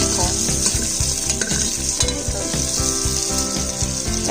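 Capsicum fries in a pan, a loud, continuous close-up sizzle and crackle with stirring scrapes throughout and a low rhythmic pulse underneath.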